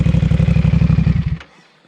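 A CFMoto 450SR S two-cylinder motorcycle with a Vandemon aftermarket exhaust revs loudly and close up, with a rapid lumpy throb that cuts off abruptly, leaving near silence.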